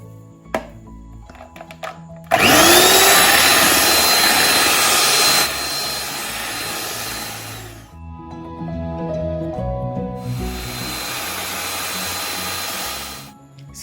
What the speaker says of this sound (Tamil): ஸோ பவுடர்ட் சுகர் கொஞ்சம் கொஞ்சமாக சேர்த்து இதை நல்லாவே அடிச்சுக்கலாம்.